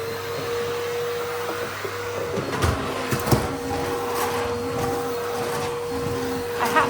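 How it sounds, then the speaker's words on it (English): A vacuum cleaner runs on a bedroom rug with a steady close-up roar and whine, with occasional bumps and scrapes as it moves. "So let's do a bit of vacuuming."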